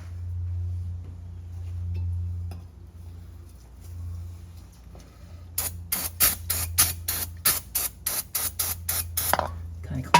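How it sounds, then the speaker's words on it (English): Around a dozen short, sharp bursts of an aerosol spray hiss in a quick rhythm, following a low hum earlier on, during an oil change on a C7 Corvette Z06. "get a little spray up in there."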